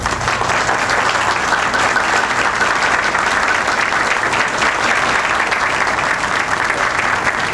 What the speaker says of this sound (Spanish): Un aplauso para la afortunada pareja.